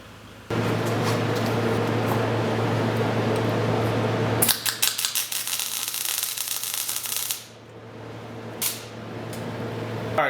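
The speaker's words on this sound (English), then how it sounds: "cut along that line with the chop saw" A chop saw slices through a bent steel tube for a Can-Am Maverick rock slider, a loud steady grinding whine that runs several seconds, then drops into rattling abrasive cutting before spinning down, with a short burst near the end.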